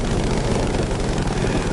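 A World War II-era airplane in the PS4 game Battlefield V roars with a dense, steady engine drone and rushing wind noise, loud and continuous throughout.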